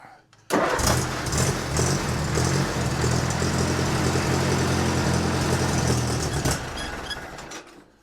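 An Allis-Chalmers C tractor engine, started for the first time this year, catches and runs with a loud, steady, rough close rumble, then tapers off near the end.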